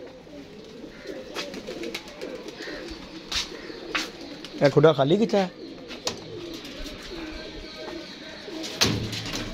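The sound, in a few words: pigeons cooing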